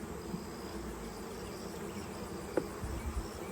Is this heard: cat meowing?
no